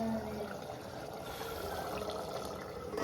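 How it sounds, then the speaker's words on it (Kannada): Masala and vegetables boil steadily in a biryani pot, a soft continuous bubbling and simmering heard close up without any talking. "ನೋಡಿ. ಕುದೀತಾ ಇದೆ."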